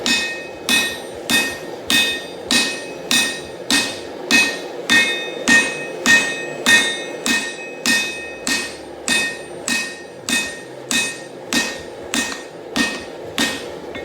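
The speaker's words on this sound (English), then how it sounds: "now I'm just going through with a hand hammer and trying to planish out all the fuller marks" Steady, evenly spaced hand hammer blows planishing a forged Dane axe blade, about two strikes per second, close and loud with a bright metallic clang on each hit.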